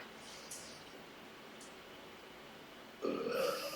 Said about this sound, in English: Sorry you had to hear me burp.